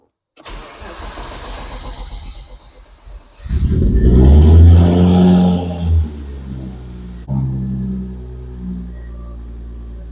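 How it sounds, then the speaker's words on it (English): BMW E36 race car engine cranks, then fires up loudly into a rough revving idle with a slight exhaust leak, settling and blipping again before the end, heard alone. "Sounds like a little bit of an exhaust leak, so I need to fix that, but everything fires up."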